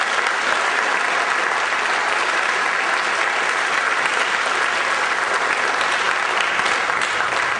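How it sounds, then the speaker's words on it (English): An audience at a school symphonic band and wind ensemble spring concert applauds students, a steady, dense roar of clapping from a large crowd that holds at full loudness throughout with no talk. "Let's give those students a round of applause"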